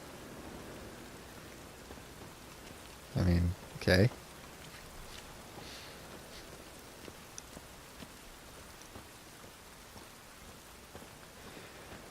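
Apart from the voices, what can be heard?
rain in video game The Witcher 3: Wild Hunt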